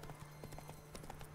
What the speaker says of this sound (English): What the fuck is with this fucking horse?